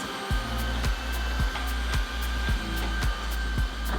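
A Tineco Floor One S5 cordless vacuum mop runs over a floor cleaning up spilled spaghetti sauce, a steady close motor whine with regular low thumps as it is pushed back and forth, no voices.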